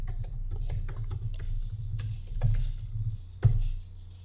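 Fingers tap out a social media post on a computer keyboard, a quick, uneven run of close clicks with a couple of louder key strikes near the end.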